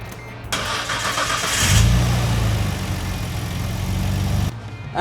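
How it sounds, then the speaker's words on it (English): A Nissan Skyline R33 GTR fitted with new HKS air filters starts up and runs, its engine rising to a loud, steady rumble close by before cutting back down. "the car is running perfectly fine"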